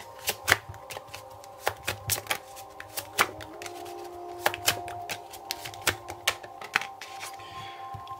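Tarot cards being shuffled and drawn produce a string of crisp riffling snaps and soft slaps, close and fairly quiet, repeating in irregular bursts over a faint background hum.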